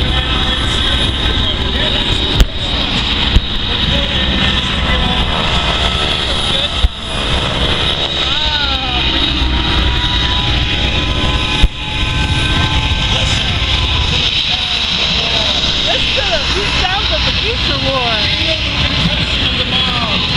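Airplanes flying at the Vectren Dayton Air Show, a loud, continuous roar of aircraft engines with pitch sweeps as planes pass, under the noise of a crowd and people talking nearby.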